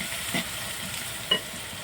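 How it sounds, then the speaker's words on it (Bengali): Grated onion stirred in a frying pan, a soft steady sizzle with two brief scraping strokes of the spoon, close and quiet. "তো পেঁয়াজটা দিয়ে একটু নেড়ে নেব।"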